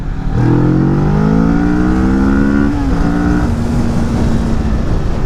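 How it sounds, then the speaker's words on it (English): Kawasaki Vulcan S motorcycle pulling hard in second gear, its engine note climbing steadily in pitch through the revs, loud and close throughout, then settling briefly before continuing. "Let's do a second gear pull here."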